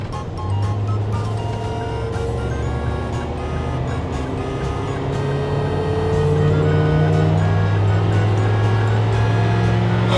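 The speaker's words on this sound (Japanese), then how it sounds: "40キロから80キロまでのフル加速タイムを計測してみます" Toyota TownAce-based camper van accelerating hard from 40 to 80 km/h while merging onto a highway, heard from inside the cabin as a steady engine drone that rises in pitch and grows slightly louder with road noise.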